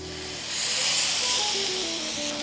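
A salmon fillet being laid in hot oil in a pan sets off a loud, broadband sizzling hiss that swells after a moment and holds steady, with faint tonal clinks beneath.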